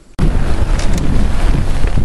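Hurricane Earl's wind roars loudly against the microphone, a sudden onset of heavy, continuous buffeting gusts with low rumbling that stays strong throughout.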